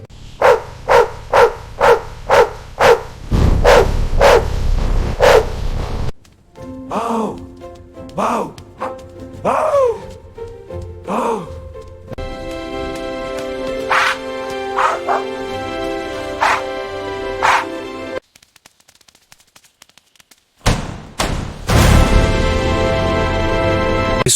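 A white dog barks in a rapid run of sharp, loud, close barks, followed by several yelping, whimpering calls; music plays beneath and there are brief quiet gaps.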